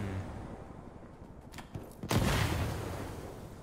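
Video game gunfire in a multiplayer shooter: faint distant pops give way to a sudden loud burst of shots and impacts that sustains in a rough, noisy roar.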